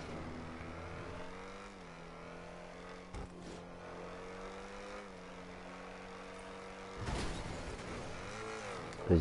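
Car engine in a video game, a low droning motor with pitch rising and falling as it accelerates, fairly quiet, with a couple of short thumps and a louder burst near the end.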